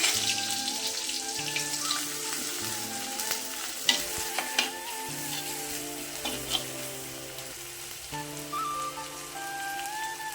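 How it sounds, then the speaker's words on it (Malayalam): Crushed garlic, shallots and curry leaves frying in hot oil, a close crackling sizzle with bursts of spattering pops and a few sharp stirring clatters, steady throughout. "ഇപ്പം എണ്ണ ചൂടായിട്ടുണ്ട് അതിനകത്തോട്ട് നമുക്ക് ചതച്ച് വെച്ച വെളുത്തുള്ളി ചെറിയ ഉള്ളി കരിയേപ്പിലയും കൂടി ഇട്ട് കൊടുക്കാം"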